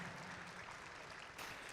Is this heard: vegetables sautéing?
no